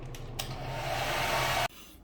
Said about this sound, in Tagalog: So hair dryer lang yan, mabilisan.